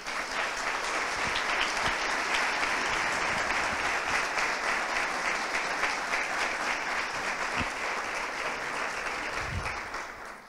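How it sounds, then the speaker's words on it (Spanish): A conference audience gives a steady burst of applause after a talk on media and political and economic power. Dense, even clapping sounds for about ten seconds before tapering off at the end. "vamos a darle un fuerte aplauso"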